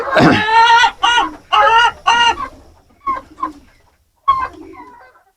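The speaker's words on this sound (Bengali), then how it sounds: "এই পাশে মুরগি কিছু আছে" Chickens and a rooster in a farm coop cluck loudly and close by in several short bursts, with quieter clucks and pauses toward the end.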